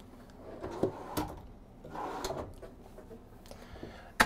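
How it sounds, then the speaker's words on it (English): Soft-closing drawers in the bathroom of a 2021 Newmar Supreme Aire 4051 motorhome slide shut with several soft, muted bumps and rustles, followed by one sharper knock at the end, all quiet and close with no talking. "Three nice drawers, again, all soft closing."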